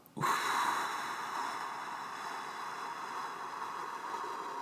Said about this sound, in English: And a deep exhale out.